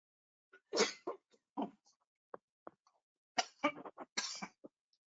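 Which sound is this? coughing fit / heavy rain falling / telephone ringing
coughing fit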